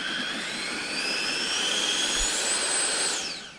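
Steady jet-style whine from an RC F-16 model with reverse thrust engaged, a continuous rising tone over broadband roar lasting a few seconds before tapering off, no talk.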